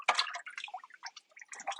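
Pottery glaze is stirred in a bucket for glazing mug interiors, giving soft, wet sloshing and dripping in short uneven bursts with brief quiet gaps, close and fairly faint.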